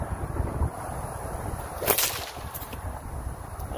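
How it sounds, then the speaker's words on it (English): A rock sling with a whipcracker gives a single sharp crack close to the microphone outdoors, standing out over steady wind noise. "I'm gonna try to throw one where it pops close to the camera."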